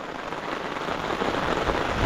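Rain falls steadily in a brief, even hiss of drops that stays constant from start to finish, with no voices.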